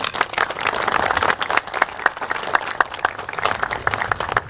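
Audience applause for dignitaries, including Coast Guard officers, at a boat launch ceremony: dense, steady clapping from a gathered crowd, moderately close, with sharp individual claps standing out over the wash for the whole stretch.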